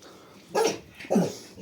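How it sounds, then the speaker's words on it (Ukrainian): A dog barks twice, close and loud, with a short gap between the two barks. "бо вже тут їх гавкає, що вже кози йдуть"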